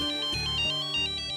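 A phone ringtone plays loud and close, a bright repeating electronic melody with pulsing notes, heard alone without voices.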